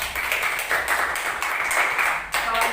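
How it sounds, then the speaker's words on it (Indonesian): Elementary school classroom applause: a group of pupils clapping together steadily for a few seconds, fairly close and fairly loud, with short pauses between bursts. "Tepuk tangan lagi untuk kita semua."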